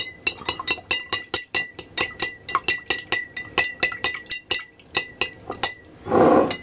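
A utensil stirs Italian balsamic vinaigrette in a glass container, giving about twenty quick, bright clinks against the glass in a steady rhythm, close and clear. A brief swirling, sloshing rush follows at the end.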